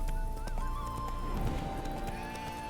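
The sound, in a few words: horse spooked, neighing and hooves, from video game Witcher 3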